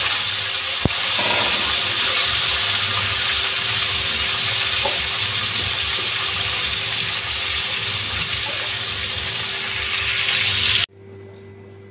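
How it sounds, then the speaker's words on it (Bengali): Potatoes fry in hot oil with a loud, continuous hiss that holds steady and then cuts off abruptly just before the end, with no talking. "আলুটা ভাজতে দিই।"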